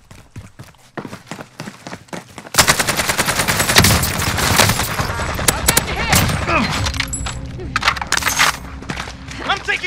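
Call of Duty: Modern Warfare gunfight: after a quieter opening with a few isolated shots, loud rapid automatic fire breaks out and keeps rattling in bursts, with players talking over it.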